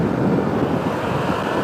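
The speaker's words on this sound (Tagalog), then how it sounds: "Grabe, nagwawala mga alon dito, ah." Strong ocean waves crash into a cove in northern Luzon, making a loud, continuous broadband roar that is buffeted by wind noise on the microphone.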